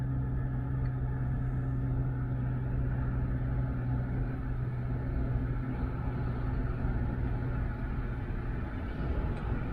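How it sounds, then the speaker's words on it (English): A steady, loud blowing roar of car air conditioning fills the cabin, with a low engine hum underneath and no talking. "So that's the aircon blaring"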